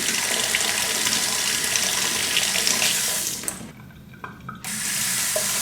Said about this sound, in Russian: Вода течет непрерывно 3 минуты, либо пока вы не поднесете руку еще раз.